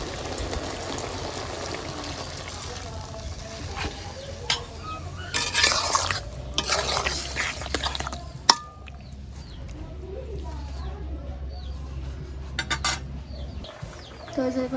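Water goes into a cooking pot in a village kitchen, a soft splashing pour amid clinks of metal utensils and pans, with birds and rustling in the background; the sound stays fairly quiet and intermittent.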